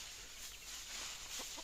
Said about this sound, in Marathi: कोंबडी बघा कशी मातीमध्ये हे करते, माती उकरते